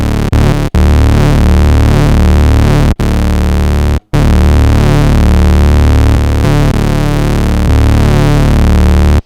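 Moog Sub 37 synthesizer with multi-drive distortion playing a loud, dense, sustained droning tone with thick low harmonics, cut by a few brief silent gaps.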